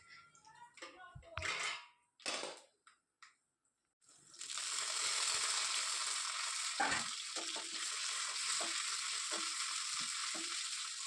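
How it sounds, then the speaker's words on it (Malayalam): Okra sautéing in a pan for an Onam feast meal: after a few seconds of kitchen clatter and brief gaps, a loud continuous sizzle takes over, broken by occasional scraping clinks. "അങ്ങനെ വെണ്ടക്ക ദേ വഴറ്റി ചേർക്കുന്നുണ്ട്"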